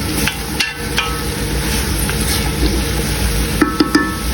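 Tomato, ginger and garlic sizzle steadily in a hot pan, a dense continuous frying hiss with occasional sharper pops and a few light utensil taps near the end, no voices.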